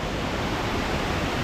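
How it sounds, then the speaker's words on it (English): Paradise Falls, a waterfall on the Dehenakanda-Mukkuwatta route to Adam's Peak, roars as a steady, dense rush of water, close and loud with no pauses. "we'll say goodbye to this beautiful waterfall which is called Paradise Falls"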